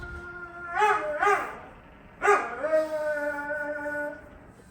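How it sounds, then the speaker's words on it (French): A dog guarding parked vehicles at night barks and howls outside a camper van, two quick sharp barks followed by a longer drawn-out howling cry, moderately close and alone. "Là, on entend le chien qui aboie"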